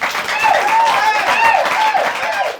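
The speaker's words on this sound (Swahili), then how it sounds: "Wapi makofi ya Deno?" An audience at a studio show recording claps for a cameraman, a brief burst of dense, continuous applause from a small crowd, close and fairly loud.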